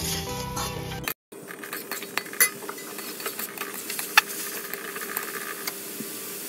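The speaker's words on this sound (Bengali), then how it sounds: "সমস্তটা দিয়ে খুব ভালো করে আবারও মিশিয়ে নেব 2 থেকে 3 মিনিট।" A utensil stirs Maggi noodles with soy and tomato sauce in a pan over a medium-low flame, with light scraping clinks and taps over a soft steady sizzle.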